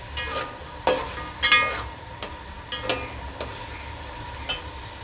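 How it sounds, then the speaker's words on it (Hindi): Green peas stir-fried in a pan for matar pulao: a spatula scrapes and clatters in scattered strokes over a soft background sizzle, close by with no talking. "एक से 2 मिनट हमने मटर को यहाँ पे भूनना है, चलाना है।"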